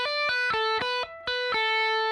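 A distorted electric guitar plays a pentatonic lick of quick hammer-ons and pull-offs from a solo, with repeated bright notes in a steady rhythm, up close and with no talking.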